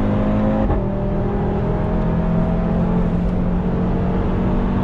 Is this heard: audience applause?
no